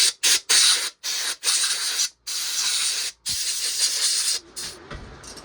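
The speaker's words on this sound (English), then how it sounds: "I'm gonna spray some WD-40 on there." WD-40 aerosol sprayed in repeated bursts onto a Pioneer P-41 chainsaw under repair, loud close hissing blasts separated by brief pauses, with one longer continuous spray near the middle.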